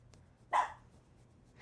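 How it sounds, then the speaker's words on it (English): A few dogs, among them a small one with a yipping voice, give a single sharp bark at close range. A faint yip follows near the end, and the rest of the stretch is quiet. "Oh, they're gonna bark. Yep, they're barking."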